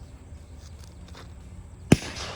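A single sharp blast from a 12 gauge shotgun rings out loud and close after a quiet stretch, followed by a brief decaying tail.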